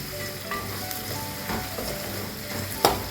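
Onion pieces frying in oil in a pan for a drumstick and tomato curry, a steady close sizzle with soft stirring scrapes and a small clink near the end.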